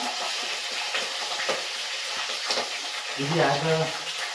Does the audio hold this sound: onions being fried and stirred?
yes